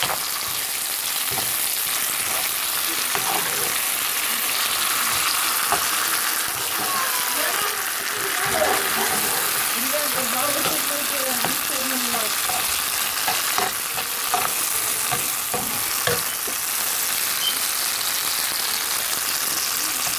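Dry shrimp frying in a pan, a steady loud sizzle with occasional stirring scrapes running throughout.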